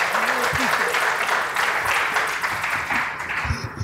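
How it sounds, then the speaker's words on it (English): Sustained applause from a crowd welcoming a speaker fills the lecture room, steady and dense throughout, with a few faint voices murmuring underneath. "let us give her a nice round hand of applause to welcome her"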